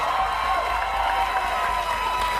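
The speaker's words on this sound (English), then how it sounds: "Yeah, you're applauding" A studio audience at a live Christmas Weekend Update comedy segment applauds steadily, a dense, even wash of clapping and crowd noise with no break across the whole stretch.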